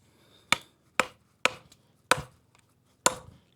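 A Turner CNC TJ Sleeve machete in Ed Calderon's Sneakreaper design chops into a knot on a tree branch, five sharp, loud, close thwacks at uneven intervals, each a crisp impact with a short woody decay and quiet pauses between.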